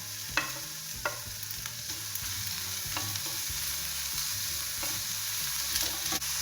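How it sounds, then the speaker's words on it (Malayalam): Ivy gourd and prawns with ginger sauté in a pan for a Kerala-style thoran, giving a steady, soft sizzle. Occasional scraping stir strokes cut through it, and no one talks. "ഇത് ഇട്ടൊന്ന് വഴറ്റണം. എന്നിട്ട് നമുക്ക് ആ കോവയ്ക്കയും കൂടെ"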